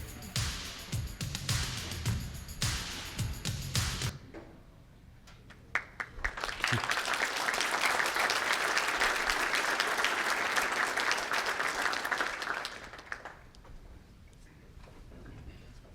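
A roomful of people clapping in a steady, sustained burst that swells and then fades out, preceded by some low rumbling noise.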